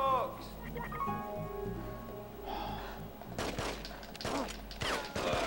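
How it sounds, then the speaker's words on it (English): Enemy gunfire in The Getaway on PS2, a run of sharp cracking shots in the latter half, fairly close, over a low game ambience with someone talking. "Why do they always have to shoot me here?"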